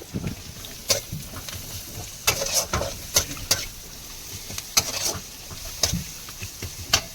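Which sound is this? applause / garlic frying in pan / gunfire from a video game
garlic frying in pan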